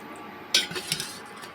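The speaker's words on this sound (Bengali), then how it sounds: "তো এর মধ্যে আমি ফালুদাও দিয়ে দেবো।" A spoon clinks against a glass a few times as falooda is added to a chilled sweet drink, brief light metallic taps close by.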